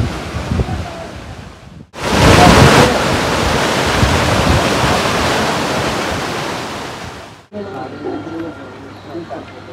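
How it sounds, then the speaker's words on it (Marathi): A waterfall near Lonavala roars as a loud, steady broadband rush that swells in abruptly and holds for about five seconds before cutting away to quieter outdoor ambience. "धबधबा"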